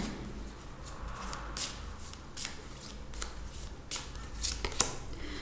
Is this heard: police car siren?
no